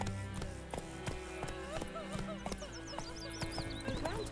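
Roach, a horse in The Witcher 3 video game, trots with steady hoof clip-clops over a continuous bed of game music, with a whinny in the mix and faint voices underneath.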